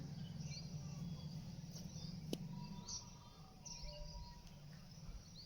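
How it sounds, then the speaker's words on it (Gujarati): Birds chirp and call intermittently in the distance over a steady low rumble of background noise, with one sharp click partway through. "પક્ષીઓનું કલબલર સવારનું સંભળાય રહ્યું"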